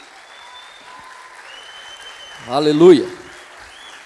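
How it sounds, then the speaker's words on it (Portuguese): A church congregation meeting in a cinema keeps up a low, steady patter of applause in the background while a voice calls out loudly once over it. "trazer com uma salva de palmas, sua melhor salva de palmas"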